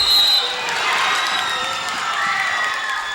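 Loud, steady crowd cheering and shouting fills a high school gym during the final minute of a tight 2010 Wayne Hills vs Wayne Valley girls basketball state playoff game, with a sustained roar and no clear pauses.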